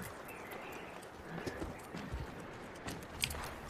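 Horse hooves clip-clopping in the video game Red Dead Redemption 2, a quiet uneven run of hoofbeats with soft game ambience and no speech.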